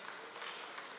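Church congregation applauding at a 50th jubilee celebration; continuous faint clapping from a crowd, distant and soft throughout.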